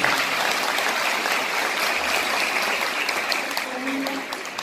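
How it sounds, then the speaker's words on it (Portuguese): Seminar audience in Grajaú gives sustained applause, a steady dense clapping that holds throughout and eases slightly at the end, with a faint voice briefly audible. "eu queria uma salva de palmas para a Elaine."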